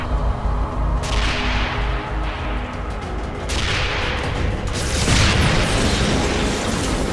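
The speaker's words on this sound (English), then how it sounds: "They have long-range cannons, so they work best firing across open terrain." Sledgehammer long-range cannons in the Anomaly 2 video game fire loud, booming blasts in a dense sequence over a continuous rumbling battle bed, with no talk.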